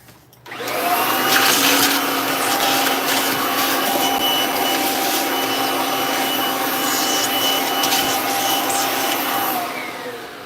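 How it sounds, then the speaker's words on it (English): A Kirby vacuum cleaner switches on after a brief pause and runs with a loud, steady whine and motor roar for about ten seconds, no talking over it. "Let me vacuum up a little bit."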